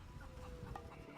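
Chickens clucking in the pirate adventure game The Curse of Monkey Island, soft repeated short clucks over a low ambient background.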